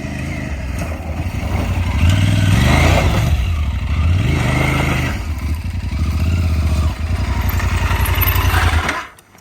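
An Aprilia Tuareg 660 motorcycle ridden off road through tight turns, its engine droning loudly and steadily with rising and falling revs throughout, near and alone, then cutting off abruptly at the end.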